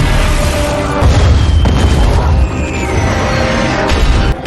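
Loud, continuous rumbling booms of cannon fire and explosions roll on without pause, deep and heavy, filling the whole stretch.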